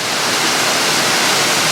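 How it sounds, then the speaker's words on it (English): Broad, steady rush of water pouring down from the top of a hill, a constant close wash of noise with no breaks and no voices. "It's an impressive bunch of water running out from the top of a hill."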